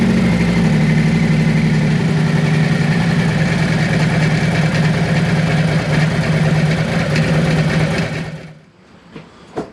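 A Harley-Davidson M8 engine idles loudly and steadily up close for a leak test after an oil pressure repair, a rough low rumble that shuts off near the end, followed by faint clicks.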